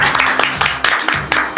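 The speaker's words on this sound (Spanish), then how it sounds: "me parece también un aplauso para Ezequiel" Applause breaks out on a television talk-show panel, a fairly loud burst of clapping that swells in repeated waves over a short stretch.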